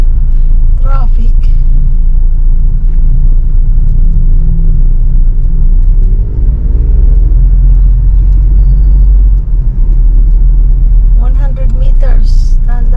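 Heavy road traffic with cars on a street near Santo Cristo Road, heard as a loud, constant low engine rumble from inside a vehicle, with brief voices near the start and end.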